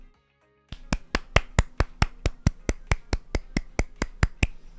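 Hands clap about sixteen times in a steady, evenly spaced rhythm. The claps are sharp and close, following a moment of near silence.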